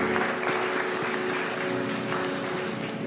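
Congregation applauding at a New Year's worship service in a church in Abu Dhabi, a steady dense wash of clapping that fills the whole stretch without letting up, with a faint sustained tone running underneath.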